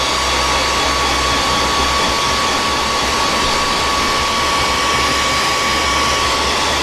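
Heat gun or hair dryer blowing steadily to set the top layers of freshly sprayed paint, a loud, continuous whooshing hum with a low motor drone running unbroken throughout.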